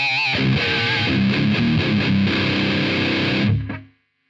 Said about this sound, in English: I don't mind the sound of the distortion.